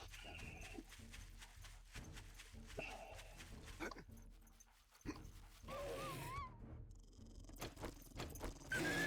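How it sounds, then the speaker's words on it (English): Zombie dogs in the video game 7 Days to Die bark and snarl in short bursts amid game noise and movement, with a gap of near quiet midway before louder action resumes. "We got dogs."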